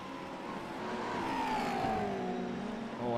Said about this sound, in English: You can just hear cars bouncing and dancing around